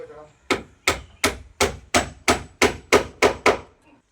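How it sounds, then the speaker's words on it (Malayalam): Nails are hammered into wooden planks, ten sharp evenly spaced blows ringing out loud and close, with no voices. "കയറി ആണി അടിക്കണുള്ളൂ"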